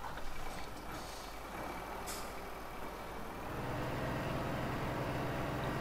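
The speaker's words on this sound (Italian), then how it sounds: "Allora, intanto piazziamo sotto il camion." A truck reversing into position in the video game Farming Simulator 15, with a steady engine drone, a brief air-brake hiss and a low engine note that rises and holds toward the end, all fairly loud with no talking.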